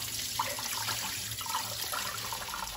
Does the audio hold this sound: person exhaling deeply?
no